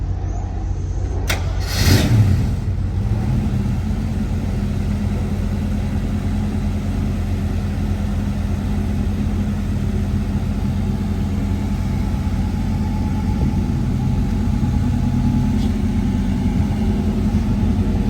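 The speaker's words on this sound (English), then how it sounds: "we're going to fire her up now" A 1979 AMC Spirit AMX with a four-speed is fired up, a sharp cranking catch and brief rev settling into a steady, loud, close engine idle that runs on alone.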